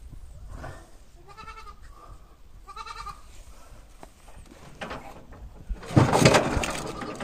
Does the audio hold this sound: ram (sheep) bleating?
yes